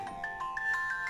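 A mobile phone rings with a short melodic ringtone, bright repeating electronic notes at a steady moderate level for about a second, with no talking.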